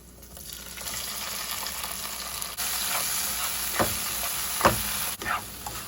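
Steady, loud sizzling of leafy greens frying in oil with garlic and green chillies, with a few sharper scraping and stirring clatters near the end. No voices.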